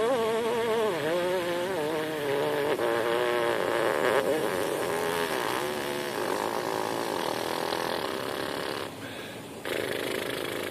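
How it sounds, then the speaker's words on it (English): A trumpet player buzzes the lips without a mouthpiece down to a very low triple pedal C, giving a loud, sustained raspy buzz with wavering pitch that runs alone for about nine seconds before briefly dipping and resuming. "That was actually a triple pedal C lip buzz."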